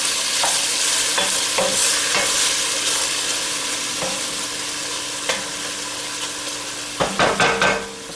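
Beef browns and sears in a soup pot with a constant loud sizzle, broken by a few spoon scrapes and stirring clatters that cluster near the end, close by and with no speech.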